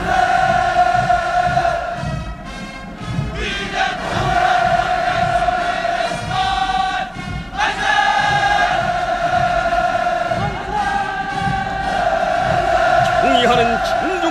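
A large crowd at a North Korean military parade cheers enthusiastically, with sustained massed shouting and chanting that swells and dips in waves, while a loud voice speaks over it.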